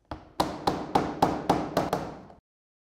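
Slate nails are driven into roof timber with a hammer, giving seven sharp, evenly spaced blows in steady rhythm, each with a short ringing decay, loud and close with no talking.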